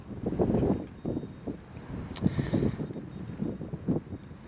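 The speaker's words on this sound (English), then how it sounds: "The wind is an absolute pain. Like you wouldn't believe, it's very windy." Strong wind buffets the microphone at an outdoor metal-detecting dig, a loud, gusting rumble that swells and fades in waves with no speech.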